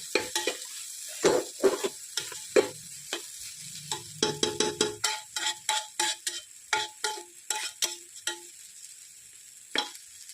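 Rice being sautéed in a pan for masala pulao with moth beans, heard as close, irregular scraping and clinking spoon strokes against the pan over a soft intermittent sizzle, with no talking.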